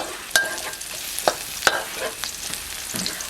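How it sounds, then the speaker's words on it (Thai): Minced pork stir-fries with chili and garlic in a pan: a steady, close sizzle with a few sharp spatula scrapes and knocks against the pan, and no voices. "เมื่อเราผัดพริกกับกระเทียมได้ที่แล้วนะครับ เราก็ ใส่หมูสับลงไปครับ"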